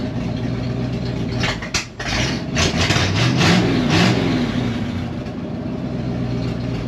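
A 1971 Ford wrecker's 360 FE V8 idles and then revs in a few short blips, with sharp throttle bursts over a steady rough idle close by, settling back to a lumpy idle afterward.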